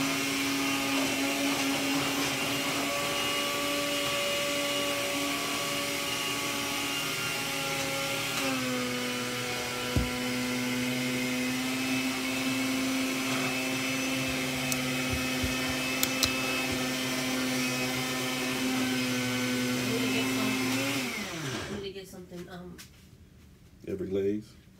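A kitchen blender runs during dinner preparation, a steady whining motor drone that holds for about twenty seconds and then winds down and stops, with people talking over it.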